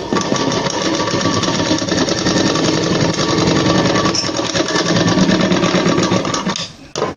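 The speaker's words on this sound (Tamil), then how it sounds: "இன்னொரு ஒரு தையல் போட்டுறேன்." A sewing machine stitches a blouse with a fast, steady mechanical rattle, loud and close, running continuously before stopping near the end.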